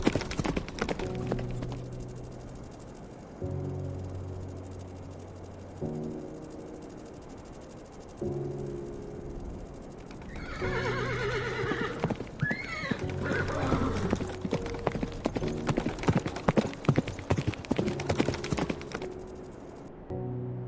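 A horse's hooves clip-clop in rhythmic strikes as it charges, joined by a loud neigh and whinny midway, over a sustained musical drone with shifting tones, the hoofbeats growing denser and louder toward the end.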